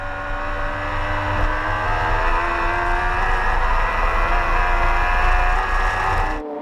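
Suzuki racing sidecar outfits roar around a circuit at the FIM Sidecar World Championship in Rijeka, Croatia, a sustained, loud, high-pitched engine wail holding steady throughout.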